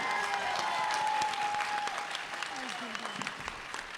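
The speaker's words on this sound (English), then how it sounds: "Let's give one big round of applause to our villain panel." Convention crowd applauding the Mighty Morphin Power Rangers villain panel at Power Morphicon 2018, a strong burst of clapping that gradually thins toward the end, with some speech faintly mixed in.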